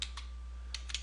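A domain name is typed on a computer keyboard in quick, faint keystroke clicks, a couple of taps followed by a short pause and then a tighter cluster of presses.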